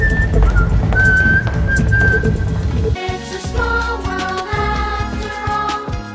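A man whistles a Disney theme in a film scene, clear, bright melodic notes over a busy backing of music and ambient sound, continuing steadily throughout.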